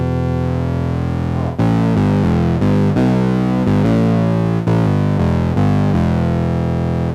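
A heavy, buzzing Moog analog synthesizer tone with FM modulation, harsh and gritty in its overtones, shifting through a series of sustained pitches in a steady, loud line.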